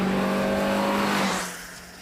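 A race car being driven hard around a track on standard tyres, its engine a loud steady drone with harmonic whine that then drops away and fades as the car pulls off.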